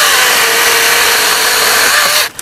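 A one-handed cordless mini chainsaw with an 8-inch guide bar cuts through a thick piece of wood, a loud, close, continuous high whine that holds steady and then cuts off abruptly near the end.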